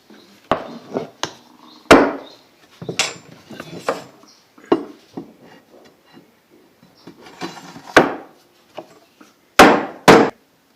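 Sharp hammer blows knocking holdfasts down into a workbench, a dozen or so irregular loud strikes with quiet gaps, close and alone.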